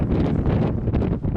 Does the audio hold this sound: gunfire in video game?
no